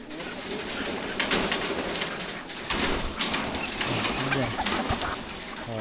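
Chickens calling and clucking steadily in a busy yard while being put into a coop, with a person talking over them and some rustling and handling noises close by.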